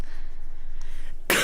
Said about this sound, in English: I'm sorry if I coughed into the mic.